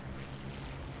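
P-51 fighter planes in the game War Thunder give a brief, steady propeller drone, a dense, close engine hum with no voices.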